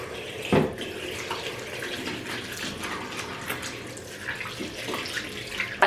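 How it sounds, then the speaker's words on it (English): A household tap runs steadily into a sink while hands are washed, a close, continuous splashing flow with a few louder splashes and knocks along the way. "Let me wash my hands."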